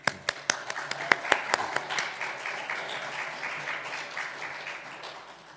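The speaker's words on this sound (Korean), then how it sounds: "축하 격려의 박수를 한번." An audience at a revival meeting claps for a long-lived elder, starting with a few sharp separate claps that swell into steady, dense applause and then gradually thin out, fairly close.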